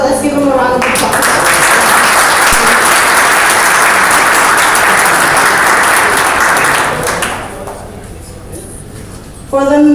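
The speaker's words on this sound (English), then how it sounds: "let's give him a round of applause" An audience at an NYPD recognition event applauds loudly and steadily for about seven seconds. The clapping then thins and fades out, leaving quiet room tone.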